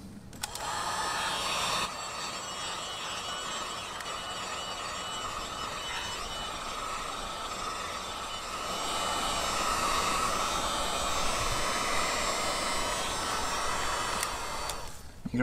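Heat gun or hair dryer blowing on a Subaru WRX emblem to soften its adhesive, a steady loud whooshing motor hum that starts abruptly, runs continuously and grows slightly louder midway, no voices.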